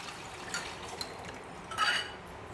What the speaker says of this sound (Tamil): இப்போ கரைச்சி வச்சுருக்கோம் இல்லையா இந்த புளி கரைசல், அது நல்லா கலந்து விட்டு இந்த வெங்காயம் தாளித்ததில் கொட்டிக்கலாம்